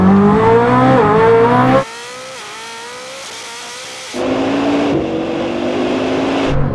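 Koenigsegg Jesko Absolute and Bugatti Chiron Super Sport launching side by side in a drag race, engines revving hard with rising gear-change pitch sweeps, a brief drop to a quieter drone mid-run, then loud roaring acceleration again, close and continuous.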